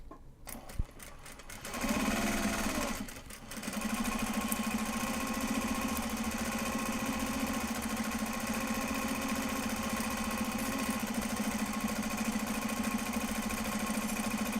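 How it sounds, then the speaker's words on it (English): A sewing machine runs a long, steady top-stitching seam on Japanese fabric bags, a close, continuous mechanical whir that starts after a few brief handling clicks and holds evenly to the end. "Two more, and then I think that's all of the white top stitching for now."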